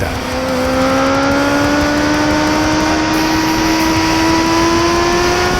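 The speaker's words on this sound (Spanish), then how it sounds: "acompañada por ese sonido agudo que define a las deportivas japonesas de los 90" A high-pitched motorcycle engine revs continuously, its whine climbing steadily in pitch, loud and close.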